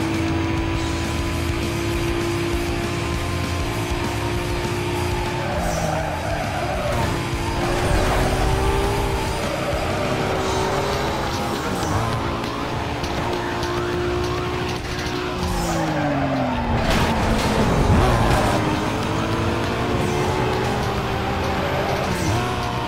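Nissan car racing in Need for Speed Most Wanted, a loud continuous engine note rising and falling through gear shifts, with repeated tire squeals and skids mixed in.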